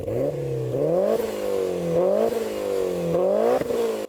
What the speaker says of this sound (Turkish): Bu buradaki en iyi ses çıkaran araba.